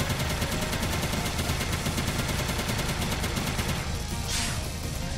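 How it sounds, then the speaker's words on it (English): A sustained stream of bullets fires in the Mighty No. 9 video game, a dense, rapid, unbroken rattle of shots that keeps a steady loudness throughout, easing slightly just before the end. "These can go with that sustained stream of bullets, too."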